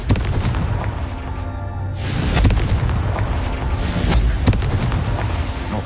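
A Confringo blasting curse goes off in Hogwarts Legacy, heavy booming explosions with rumbling impacts and bursts of debris-like crackle, loud and continuous over several seconds.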